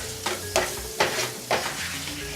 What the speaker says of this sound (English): Keep on stirring it around until it's nice and blended in.